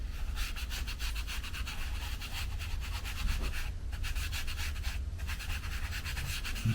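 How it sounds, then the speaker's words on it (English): Two green pastels rubbed and blended on paper, a continuous dry, close scratchy rubbing with a fast back-and-forth rhythm, fairly quiet and with no voice. "now let me rub that in there. The two greens, I'll rub them together"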